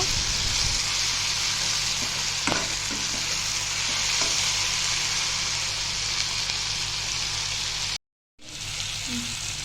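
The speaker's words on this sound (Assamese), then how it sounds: "মই ইয়াত নহৰুখিনি দি দিছোঁ আৰু লগতে আদাখিনিও দি দিছোঁ আৰু দি ভালদৰে অলপ সময়ৰ কাৰণে আকৌ এইখিনি ভাজি ল'ব লাগিব" Garlic and ginger fry in a pan for matar paneer, a loud, steady sizzle with occasional scraping stir strokes, briefly cutting out near the end.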